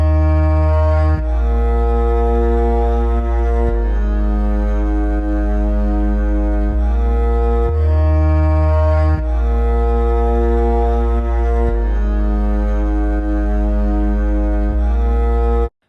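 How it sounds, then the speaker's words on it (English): A soloed bass line blending a sine wave sub bass from Serum with a sampled double bass from Omnisphere 2 plays slow, sustained low notes that change every second or two, steady and loud. "a sine wave sub bass coming from Serum and a double bass coming from Omnisphere 2"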